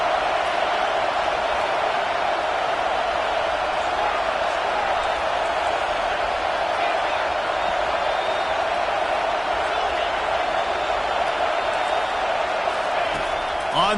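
Dense, steady roar of a packed stadium crowd at a Michigan vs Kansas college football game, a continuous wash of massed voices holding at a loud, even level with no pauses.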